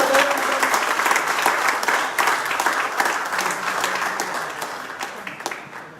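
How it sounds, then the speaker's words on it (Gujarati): An audience at a COVID warrior award ceremony claps steadily for several seconds, a dense wash of applause that slowly fades toward the end. "Thank you very much. તાળીઓ કરીને"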